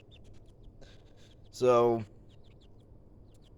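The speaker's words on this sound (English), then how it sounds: "I got at least 13 chickens and 2 turkeys now" A backyard flock of chickens, kept alongside turkeys, gives a single loud, drawn-out squawking call close by, against a quiet background with faint scattered clucks; a voice briefly speaks before it.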